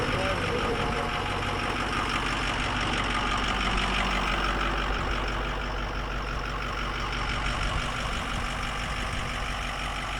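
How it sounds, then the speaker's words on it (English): A 2006 Ford F-350 Super Duty diesel flatbed truck's engine clatters and rumbles loudly and steadily up close, with a person talking over it. "Diesels are so loud."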